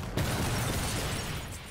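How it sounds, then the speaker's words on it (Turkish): An explosion in the video game Watch Dogs 2, as power sources are blown up: a sudden loud blast that rolls on as a dense, sustained rumble with debris crackle for over a second. "Müthiş bir patlama diyebilirim."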